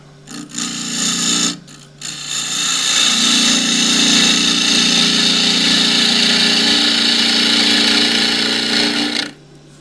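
A half-inch spindle gouge cuts a round of split banksia firewood on a lathe. Two brief bursts give way to a loud, continuous rasping cut that runs for several seconds and then stops abruptly.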